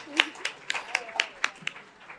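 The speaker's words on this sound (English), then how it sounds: "Let's give her parents a round of applause." Scattered applause from a small audience at a youth innovation forum at UC Irvine, honouring a girl's parents: about eight separate claps, sparse and irregular, fairly quiet and close.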